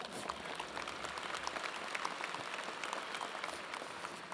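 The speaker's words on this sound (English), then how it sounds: "you can applaud, it's okay." Audience applause fills a college commencement ceremony, a steady dense wash of many hands clapping at close range, sustained and even throughout without pauses.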